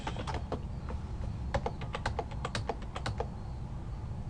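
Typing router configuration commands on a computer keyboard, with a run of crisp key clicks in uneven bursts, close and fairly quiet over a low background hum.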